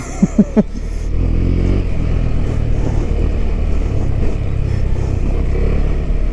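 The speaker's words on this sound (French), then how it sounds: "Il est quand même bien volontaire à ce petit moteur, franchement c'est top." A KTM 390 Adventure's small single-cylinder engine drones steadily while the bike is ridden along dirt tracks, with a few sharp knocks at the start giving way to a continuous close rumble and road noise throughout.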